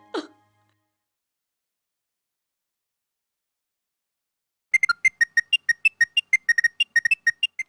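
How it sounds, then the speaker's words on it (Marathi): Mobile phone ringtone sounding after a long silence, a quick run of bright repeated electronic beeps in a steady pulsing pattern, fairly soft and heard alone. "आईचा फोन उचलू की नको?"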